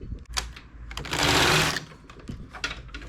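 Knitting machine working the ribbed band of a baby hat, a steady mechanical whir and rattle in a short burst, bracketed by clicks and carriage clatter.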